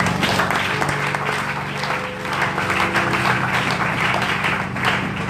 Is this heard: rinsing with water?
no